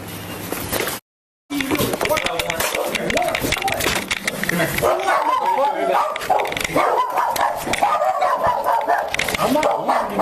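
Several dogs bark at a house during a tense police arrest, loud and continuous under shouting voices and commotion, with a brief dropout near the start.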